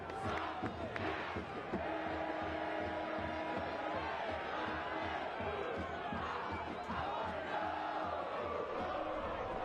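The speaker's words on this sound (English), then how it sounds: "Saw the crowd getting animated, getting into that one." Stadium crowd at a Detroit City FC versus Loudoun United FC soccer match rising in a sustained, dense roar of cheering and shouting after an equalising goal, loud and continuous throughout.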